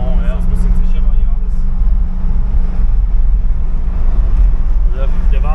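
A 1991 Corvette accelerates on a straight, its engine a deep, steady drone with some wind noise inside the cabin, while people talk over it.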